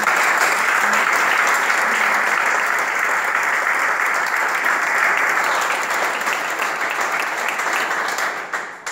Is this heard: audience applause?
yes